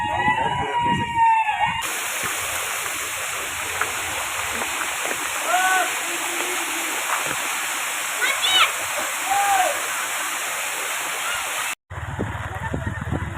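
Kumbhavade Baba waterfall pours in the monsoon rain at a crowded Sunday outing, a steady broadband roar of rushing water running unbroken for about twelve seconds before a brief cut, with faint voices now and then.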